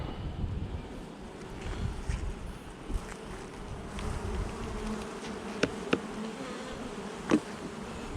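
Steady buzzing of a large bee colony fills the whole stretch, a dense hum of many bees with a few sharp clicks and light wind noise, no voices.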